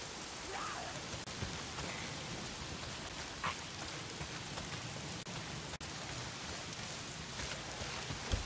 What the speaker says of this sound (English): It's not the freaks. It's the goddamn rain.